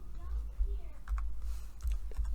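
Rapid keystrokes on a computer keyboard while an Excel formula is entered, a quick run of soft, close clicks and taps over low background hum, with speech nearby.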